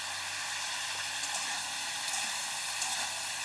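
Cauliflower and potato pieces frying in a pan with a little salt and turmeric, giving a steady, soft, even sizzle throughout with faint crackles and no talking.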